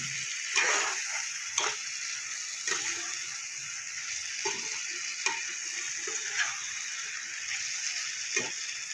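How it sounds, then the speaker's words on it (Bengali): Kohlrabi and potato sizzle in a pan with Kashmiri chilli and turmeric, a steady bright frying hiss broken by about eight sharp scraping stirs at a roughly regular pace. "ওলকপি আর আলু মশলার সাথে ভালো করে আমি বসিয়ে নিয়েছি"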